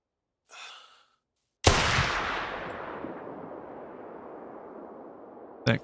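A single loud hunting rifle shot in theHunter: Call of the Wild video game, with a long rolling echo that fades over several seconds, preceded by a brief soft breath.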